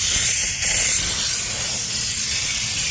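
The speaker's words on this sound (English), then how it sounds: "You want every last drop of this brake cleaner in this motherfucker." Brake cleaner sprayed from an aerosol can, a continuous loud hissing spray lasting the full three seconds with no pause.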